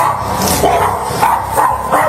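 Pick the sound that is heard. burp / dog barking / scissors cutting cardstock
dog barking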